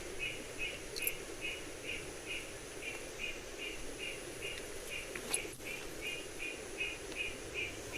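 Repeated chirping calls pulse steadily over a constant hiss of insects in a dark forest at night, with a few faint sharp clicks and no talking.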